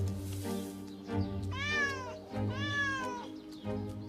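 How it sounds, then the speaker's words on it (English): An anxious cat meows twice in long, rising-falling calls, close and clear, over a steady low background hum. "The anxious cat rushes into the yard, trying its best to attract the old lady's attention."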